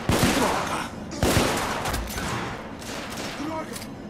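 Rapid volleys of gunfire from The Order: 1886, a third-person shooter, with sharp loud bursts clustered at the start and again mid-way, then a lingering rumble of battle and scattered further shots, while a voice talks between the bursts.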